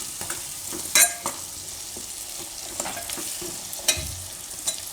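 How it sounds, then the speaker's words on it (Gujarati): Red chili powder, roasted cumin powder and spices stirred in hot oil for a Gujarati brinjal-potato curry, a continuous close sizzle with sharp spoon scrapes and clanks against the pan. "અને લાલ મરચું આ બધું આપણે મિક્સ કરી લેવું વધારી દેવું"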